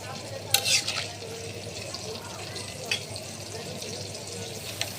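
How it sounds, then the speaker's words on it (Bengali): Rohu fish curry with flat beans stirred in a pan, giving soft scraping and clinking of the spoon against the pan over a low sizzle, with a few sharper clanks and a voice talking faintly. "এখানে এই যে মাছগুলো তো নাড়াচাড়া দিয়ে দিব।"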